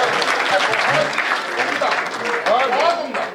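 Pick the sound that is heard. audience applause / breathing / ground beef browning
audience applause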